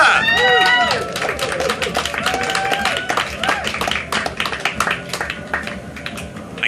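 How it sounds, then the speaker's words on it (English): Festival audience applauding a speaker at Bettakultcha, Beacons Festival 2014: dense, sustained clapping from a crowd, loud and continuous throughout with scattered voices, whoops and chatter mixed in. "give a huge round of applause for Lawrence Alexander"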